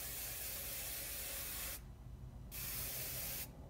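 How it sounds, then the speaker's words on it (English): Hairspray hisses from an aerosol can onto a mounted squirrel's tail in two long, loud, close bursts separated by a short break, followed by the start of a third. "And then we put a little hairspray on it."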